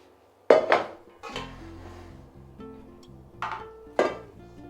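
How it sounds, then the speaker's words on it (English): Metal pan and utensil clanks while pan juices are spooned over homemade ravioli, two sharp close clatters at the start and two more later, with quieter scraping and ringing between. "I add the juice from the pan."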